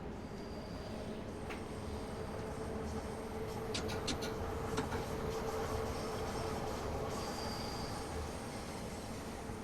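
A 1972 MK2 tube train on the Bakerloo Line in Train Sim World 5 picks up power, a steady rumble and rolling hum with faint whining tones and a few brief metallic squeaks, running even across the whole stretch.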